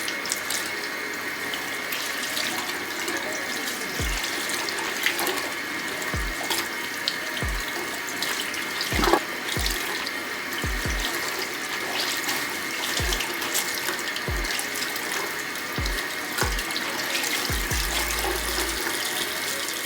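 Tap water runs steadily into a sink while tie-dyed socks are rinsed under it, a constant close hiss and splash with occasional light knocks and thumps of handling, no talking.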